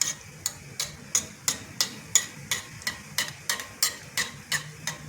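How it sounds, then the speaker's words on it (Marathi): Gulab jamun frying in ghee, with a regular run of soft scraping taps as the hot ghee is stirred, roughly three strokes a second, close and fairly quiet with no talking. "आता हे ना तूप हलवायचं थोडंसं"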